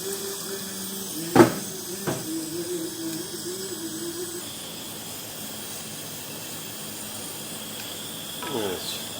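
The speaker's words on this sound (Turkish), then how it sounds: "Salçamızı kavurduk, suyu ilave ettik." Water poured into a pot of sizzling fried tomato paste sets off a sharp hiss and splash, then a steady crackling, steamy sizzle that continues close by with no talk.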